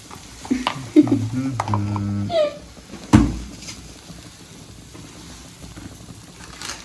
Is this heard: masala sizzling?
yes